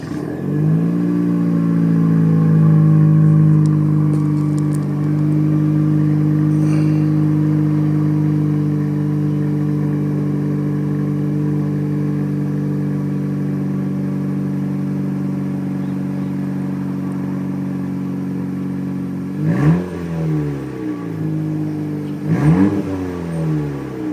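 A 2018 Honda Civic Si with its muffler deleted holds a loud, raspy exhaust drone close by, then gives two sharp revs near the end, with no voices.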